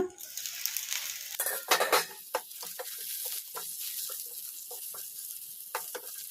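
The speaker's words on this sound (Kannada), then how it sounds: "ಒಂದ್ಸಲ ಮುಚ್ಚಳ ತೆಗೆದು ನೋಡಿ ಕಲಿಸ್ಕೊಂಬಿಡೋಣ" A spoon stirs brinjal in a pot, with scraping clinks and a soft sizzle of simmering underneath; several short strokes, close by, no talking.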